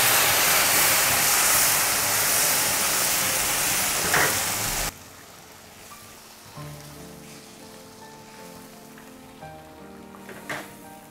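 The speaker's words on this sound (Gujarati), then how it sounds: "તો હવે આપણે એડ કરીશું મિલ્ક." Milk poured into semolina roasting in a pan for sheera sets off a loud, dense sizzling hiss that stops abruptly after about five seconds, followed by quieter stirring scrapes and clinks.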